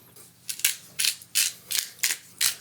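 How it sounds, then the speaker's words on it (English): A pepper mill grinds fresh black pepper over a wedge salad in six or seven close, crisp bursts of gritty crunching, each a quick twist with brief pauses between. "offering you a nice grinding of fresh black pepper"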